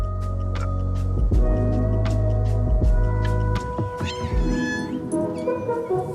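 A person imitates a cat, giving a few drawn-out meows over a steady low hum and scattered soft clicks.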